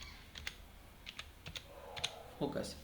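Text is typed on a computer keyboard while working in Revit architecture software, heard as a few quiet, sparse keystrokes in small clusters, with a faint voice near the end.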